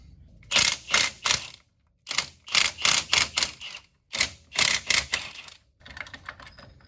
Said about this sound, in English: And now we zip these bolts out.